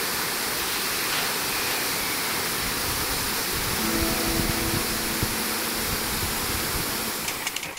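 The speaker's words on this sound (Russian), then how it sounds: "вода выходит из глубин карстовой пещеры и вырывается с высоты 55 метров" Karst cave spring in Abkhazia pouring from an underground river through a narrow cleft and dropping 55 metres, heard as a steady, dense roar of falling water that fills the whole clip without a break, with no voices.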